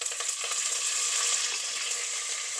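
Curry leaves, mustard seeds and fenugreek seeds sizzle in hot oil for a South Indian fish curry, a steady, close frying hiss with small popping crackles and no voice over it.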